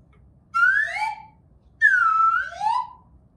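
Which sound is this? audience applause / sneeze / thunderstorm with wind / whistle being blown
whistle being blown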